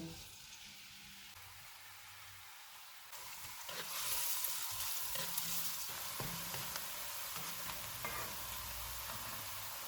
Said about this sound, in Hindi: ऑयल गर्म हो गया है, इसमें 2 प्याज डालेंगे। इनको गोल्डन फ्राई करेंगे।